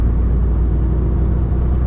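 A van cruising at about 30 mph makes a steady, loud low engine and road rumble from inside the cab, with no voices.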